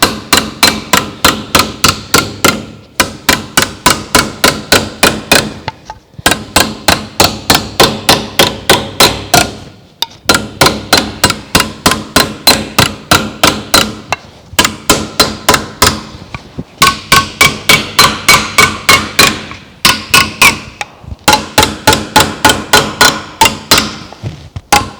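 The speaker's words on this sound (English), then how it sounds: "I just love hammer forming." Rapid bursts of metallic hammer blows shaping sheet metal for a Holden HG door rust repair, struck in quick runs of a dozen or so with short pauses between, loud and close.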